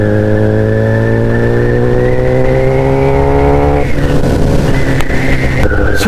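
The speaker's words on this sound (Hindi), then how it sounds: "I am riding super bike for the first time" A 2020 Kawasaki ZX-10R Honeycomb Edition superbike being ridden, its loud close engine note rising steadily in pitch as it accelerates, then dropping sharply and climbing again through gear changes.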